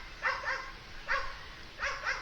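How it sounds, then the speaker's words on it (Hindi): A dog barks three times in short paired bursts at a moderate distance, fairly faint against a quiet indoor background, with no talk over it. "टॉनी भौंक रहा है"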